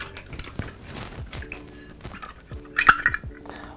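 Metal paintbrush ferrule rattled and clanked inside an aluminium Coke or Pepsi can to knock paint out, a burst of quick tinny clinks and rattles near the end after quieter scattered taps.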